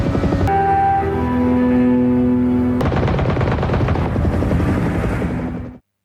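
Helicopter approaching with a loud, steady rotor drone and engine whine, joined midway by dense rapid gunfire-like crackle, then cutting off abruptly at the end.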